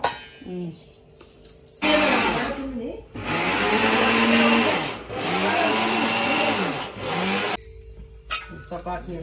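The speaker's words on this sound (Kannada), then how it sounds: "ಇವಾಗ ಇದನ್ನ ಮತ್ತೆ ಮಿಕ್ಸಿ ಮಾಡ್ಕೋಬೇಕು." A mixer grinder whirs loudly in two long bursts with a brief pause between, blending peanut powder and jaggery for ellu holige. Voices talk briefly before and after the grinding.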